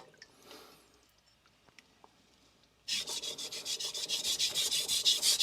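A Victorinox hard stainless chef knife is pushed along a King NEO 800 whetstone. After near-silence it breaks into a close, loud, rhythmic run of scraping strokes, one per stroke, with no talk.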